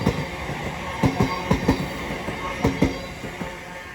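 Class 707 electric train on the London Charing Cross to Dartford service passing through New Cross on the South Eastern Main Line, a steady rolling rumble broken by repeated sharp wheel clicks over rail joints, close by.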